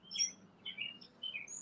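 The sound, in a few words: bird chirping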